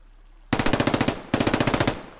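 Two loud, close bursts of rapid automatic gunfire from the video game SquadOps, each a quick string of evenly spaced shots, separated by a brief pause.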